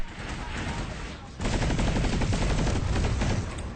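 Gunfire in the video game PlanetSide 2, a quieter stretch of shots followed by a loud, dense burst of rapid automatic fire that keeps rattling steadily to the end.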